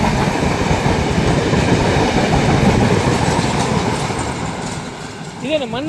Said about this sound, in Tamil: பக்கத்திலே ட்ரெயின்.